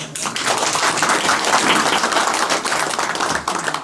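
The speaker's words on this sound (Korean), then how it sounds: "박수 한번 칩시다." Loud, dense audience applause at a clan gathering honouring General Byeon An-yeol, many hands clapping steadily and close for the whole short burst.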